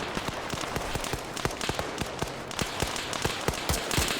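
Gunfire in a town in a military video game, a run of sharp cracking shots at irregular intervals, fairly distant and moderately quiet, with no talking.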